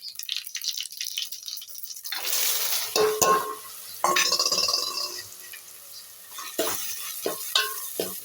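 Bottle gourd, tomato and chillies hitting a hot pan of tempering oil, with bursts of sizzling, stirring scrapes and clinks of a utensil against the pan, fairly close and moderately loud.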